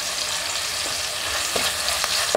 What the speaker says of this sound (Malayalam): അതും കൂടി ഇട്ടിട്ട് നമുക്ക് നന്നായിട്ടൊന്ന് വഴട്ടാം കേട്ടോ.